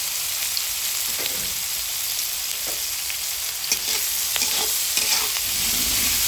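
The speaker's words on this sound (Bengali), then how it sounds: "ভাজা ভাজা হয়ে আসলে এর মধ্যে দিয়ে দিচ্ছি কেটে রাখা পেঁয়াজ ও মরিচ।" Chopped onions and green chilies sizzle in hot oil in a pan with whole spices for chickpea curry, a steady close frying hiss broken by light stirring scrapes.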